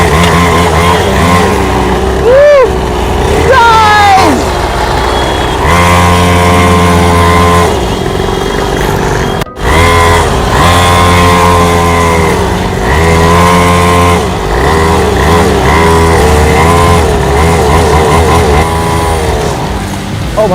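A 49cc mini dirt bike engine revs loudly and continuously outdoors, its pitch rising and falling in repeated throttle bursts with a brief cut near the middle, no talk over it.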